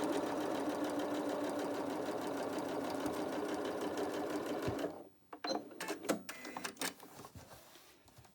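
Sewing machine stitching a line across quilt blocks, a fast steady mechanical whir for about five seconds that stops, followed by a few faint clicks and handling sounds.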